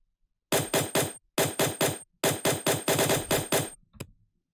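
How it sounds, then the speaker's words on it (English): A machine gun bass effect fires in three rapid bursts of punchy, distorted hits inside a riddim drop made in FL Studio, followed by a single final stab and silence. "Second part of the drop does have a machine gun bass"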